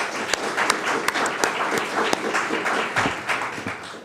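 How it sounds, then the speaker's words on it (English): Audience at a library grant announcement breaks into a round of applause, a steady patter of many hands with a few sharper nearby claps standing out, sustained for several seconds. "If we can give them one more round of applause."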